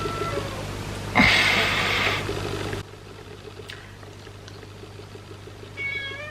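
A pet cat lets out a single loud, close meow, then a few quieter faint calls follow against a quiet indoor room with a low steady hum.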